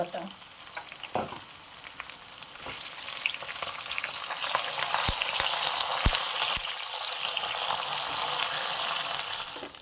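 Whole coriander seeds and curry leaves sizzle in hot oil for a Kashmiri red chilli pickle, a steady close frying hiss with a few sharp spoon knocks against the pan, no talk.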